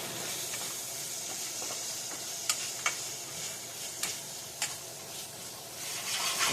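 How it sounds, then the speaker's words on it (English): A utensil scrapes browned fond from the bottom of a pot roast pan, a soft hissing sizzle broken by a few sharp scraping ticks and clicks, close and fairly quiet. "Get that fond off the bottom of that pan."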